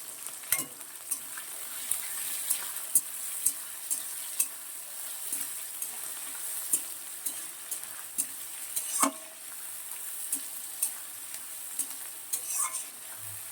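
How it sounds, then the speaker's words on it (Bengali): Chopped onion and tomato fry in a pan for a chicken curry, giving a steady sizzle with repeated sharp clicks and scrapes from a spoon stirring against the metal, close up and without talk. "দেখো পেঁয়াজ আর টমেটোটা কিন্তু খুব ভালো করে ভাজা ভাজা হয়ে গেছে"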